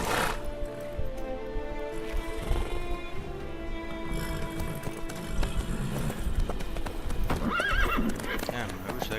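Horse hooves clip-clop steadily with a whinny from the mount in The Witcher 3: Wild Hunt, a busy game soundtrack and voices talking over the ride throughout.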